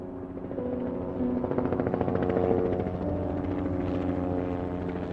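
The Mayo 1 emergency medical helicopter, dispatched from St. Mary's Hospital in Rochester, gives a steady, droning engine whine with a fast rotor pulse. It holds at a constant level throughout with no voices.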